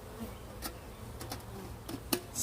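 Steady low insect buzzing from many honeybees at an urban beehive, a continuous hum with a few brief sharper clicks and bumps, heard close and without speech.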